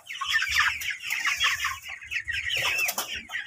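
A flock of hungry chickens, roughly 45 days old, clucking and chattering continuously while waiting for feed, loud and close with overlapping calls.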